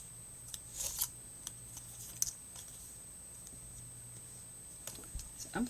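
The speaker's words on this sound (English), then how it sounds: "So I think I'm going to cut everything else away." Scissors snip through paper during a flower-and-butterfly papercraft cut-away, a few quiet, scattered crisp snips with small rustles between, close but faint, with no talking.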